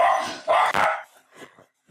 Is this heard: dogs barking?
yes